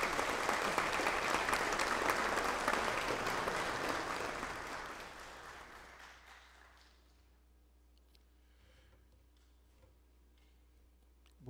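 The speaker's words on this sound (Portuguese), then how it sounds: "peço a todos uma salva de palmas ao deputado Carlos Gianazzi," Applause for deputy Carlos Gianazzi at a formal ceremonial session of a legislative assembly: a dense, steady burst of clapping from a crowd that tapers off over several seconds into near silence.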